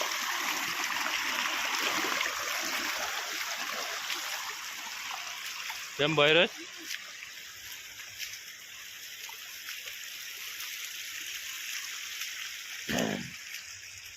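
Rainwater floods a farm field, rushing and trickling in a steady broadband wash, with a brief spoken remark and another short noise cutting in over the flow.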